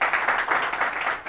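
An audience at a student award ceremony for Hari Om Classes in Handia, Prayagraj applauds, a short, dense burst of steady clapping heard close.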